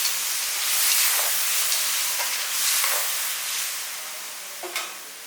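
A ground paste stirred into a simmering vathal kuzhambu in a pan. Steady, bright hissing and sizzling close by, with a few faint stirring knocks and no voices.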